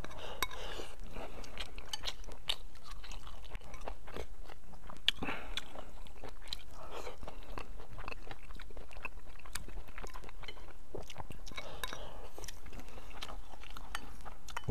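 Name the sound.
crunchy food being chewed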